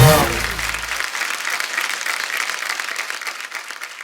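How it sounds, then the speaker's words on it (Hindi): Studio audience at a TV comedy show breaks into loud, sustained applause after a contestant's performance, a dense steady wash of clapping that holds for several seconds. "इनके लिए जोरदार ताली।"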